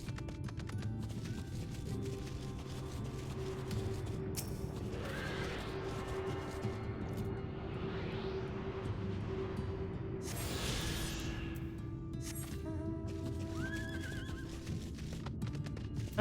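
A horse in Final Fantasy XIV whinnies loudly more than once over clopping hooves and a steady background hum, all sounding like game audio.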